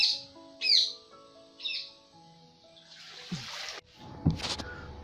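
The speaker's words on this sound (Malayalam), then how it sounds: "കിളികളൊക്കെ പറയുന്ന ശബ്ദം കേട്ടിട്ടുണ്ട്, ഒരുപാട് തരത്തിൽപ്പെട്ട കിളികൾ." Birds call in the Pichavaram mangrove forest during a rowboat trip: a few clear chirps and whistles ring out at first, then give way to water splashing and trickling nearby.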